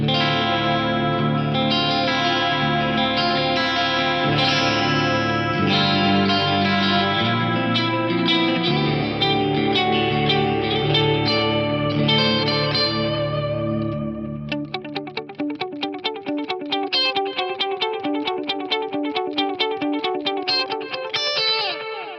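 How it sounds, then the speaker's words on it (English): Electric guitar with a warm, repeating vintage delay from an Eventide Eclipse, notes echoing and trailing into each other, shifting to quicker picked phrases, loud and steady with no voices. "this is what the vintage delay sounds like"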